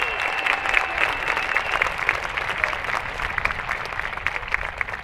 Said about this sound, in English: Please give this outstanding class a round of applause